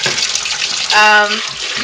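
Tap water runs steadily into soap-making containers as they are flushed, a broad wash of splashing close by with a brief brighter tonal gush partway through.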